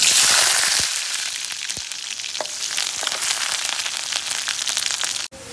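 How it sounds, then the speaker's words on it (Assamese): Green chilies and onions frying loudly in hot oil in a kerahi, a dense continuous sizzle and crackle that stays steady throughout, close and alone with no voices. "তেলটো গৰম হোৱাৰ পিছত এইপিনে দিম পুৰা জলকীয়া পিঁয়াজ"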